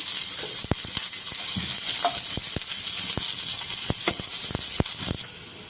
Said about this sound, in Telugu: అదే ప్యాన్లో ఆనియన్స్ ముక్కలు వేసుకొని ఫ్రై చేసుకోవాలి